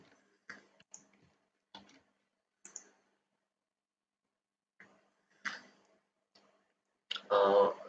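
Several quiet, separate clicks of a computer mouse, close and sparse with irregular gaps, ending in a brief louder rustle.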